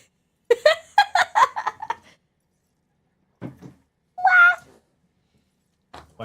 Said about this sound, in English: Wifey's playing with the cat.